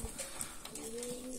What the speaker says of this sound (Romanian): revenim cu un nou video din voliera porumbeilor.